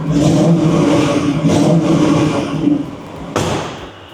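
The engine of a 2013 Ford Mustang Mach 1 revs loudly up close with a deep, rumbling roar, holding steady before easing off, then a sharp second blip of throttle near the end.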